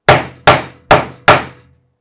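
A hammer strikes nails into a wooden box four times in an even rhythm, each sharp knock ringing briefly and ending in silence.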